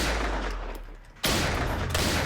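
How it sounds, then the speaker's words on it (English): One sharp, loud .22 caliber rifle shot with a full metal jacketed round, a sudden blast that cuts off a rumbling background and leaves a dense noisy wash afterward. "a direct shot from a .22 caliber rifle firing a full metal jacketed round"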